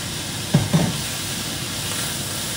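Boiled chicken and salami sauté in a pan, giving a steady, loud sizzling hiss that runs throughout, with two soft knocks near the start.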